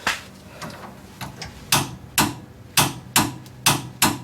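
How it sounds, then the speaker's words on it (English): Torque wrench with a 19mm socket tightening the lower sway bar end links on a 2007+ Toyota Tundra TRD: a series of sharp, close ratcheting clicks in an uneven rhythm, about eight distinct snaps. "Using a 19mm wrench and socket on a torque wrench, tighten the lower sway bar end links to 48 foot-pounds."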